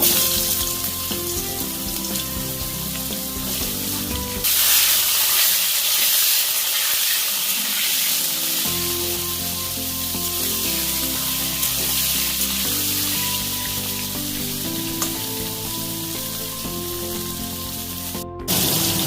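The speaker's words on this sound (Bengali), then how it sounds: "ওই তেলেই পটলগুলো ভেজে নিচ্ছি।" Pointed gourd (potol) pieces fry in the oil left from frying potatoes, a continuous close sizzle and hiss that briefly drops around the middle, then resumes with scattered crackles.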